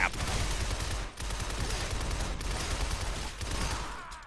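Enemies firing guns in the video game Shadow Complex, a dense continuous barrage of rapid shots with brief gaps, loud and close, filling the whole moment.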